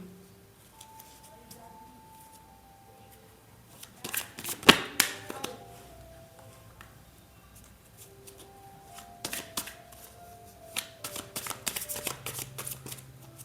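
Tarot cards are shuffled by hand in short, close bursts of riffling and tapping, separated by quiet stretches with faint speech in the background.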